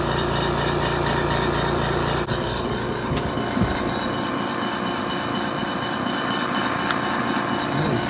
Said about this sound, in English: And time to give it a start and see what happens.